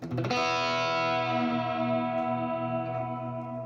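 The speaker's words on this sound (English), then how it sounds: "Nice and swimmy and big sounding." A single electric guitar chord rings out and sustains in a wide, washy reverb, slowly decaying over several seconds.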